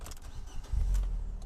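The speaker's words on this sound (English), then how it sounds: "let's switch on the car" The engine of a Hamann Fiat 500 Largo cranks and catches after a brief click, settling into a low, close idle rumble.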